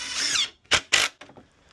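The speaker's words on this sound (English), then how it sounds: "Really important to pre-drill." Power drill pre-drilling screw holes into the wooden members of a zome frame, with two short, loud bursts of drilling after a longer whirring stretch, then a few faint clicks and handling noises.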